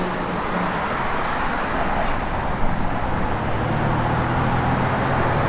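A 1970 Plymouth Road Runner V8 idles steadily with Mopar Performance valve covers and a factory air cleaner, giving a constant, close, broadband engine rumble with no talk.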